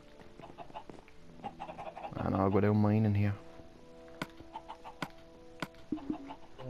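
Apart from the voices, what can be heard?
chickens clucking in Minecraft, from a video game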